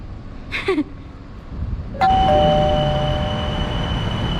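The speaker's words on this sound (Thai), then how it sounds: "นั่ง BTS อีกแล้วเนาะ" Aboard the BTS Skytrain in Bangkok, a faint voice is followed by a clear chime tone, then a steady, close rumble of the moving train carriage.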